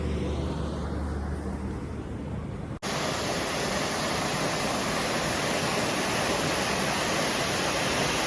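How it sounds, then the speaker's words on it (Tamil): A roadside waterfall on the way up to Nuwara Eliya pours as a loud, steady broadband rush, cutting in abruptly after a quieter stretch of vehicle interior rumble. "இது நம்ம நூறலியா போகிற வழியில் ஒரு அருவியை பார்த்தோம்."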